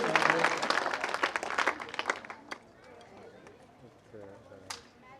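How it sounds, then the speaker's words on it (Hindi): Loud burst of clapping from a class of students at a school farewell party, dense and close at first, then thinning into scattered claps and a few last slaps as a voice talks over it. "कमांडर के लिए ताली होनी चाहिए भाई।"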